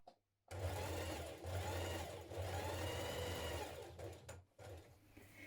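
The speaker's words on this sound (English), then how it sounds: "now we're going to top stitch around the outer edge" Sewing machine running steady bursts of top stitching around the outer edge of a turned and pressed fabric cuff for a 1970s wrap dress, a close mechanical whir with brief pauses between runs.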